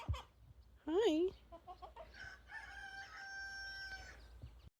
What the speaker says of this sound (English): one of these chickens came to check me out